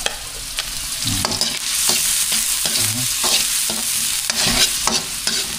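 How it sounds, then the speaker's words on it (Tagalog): Ginger and garlic sautéing in a pan make a constant close sizzle, broken by repeated spatula stirs and scrapes in an irregular rhythm, no talking. "Igisa na po natin yung ating luya, bawang."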